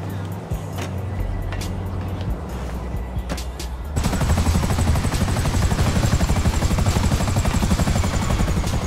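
A helicopter in GTA Online starts as a quieter engine rumble and then jumps abruptly into a loud, continuous, rapid rotor chop that stays steady to the end.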